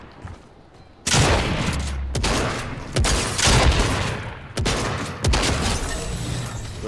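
Gunfire rings out in a Fortnite duos match, with several sharp, loud bursts of shots at close range in quick succession and brief gaps between volleys.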